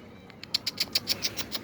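An arriving pigeon's wings flap in a quick run of about nine soft beats, close by, with faint chirps before.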